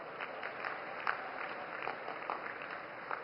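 Crowd at a large political rally in Betul, Madhya Pradesh claps to welcome Narendra Modi, a steady, fairly faint wash of applause with scattered louder claps throughout.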